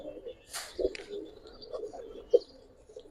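Pigeons in a loft give soft, low coos, two or three brief throaty notes standing out over faint background murmur, with a flutter or rustle early on, close by and fairly quiet.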